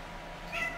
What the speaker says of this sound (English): let me let my cat out really quick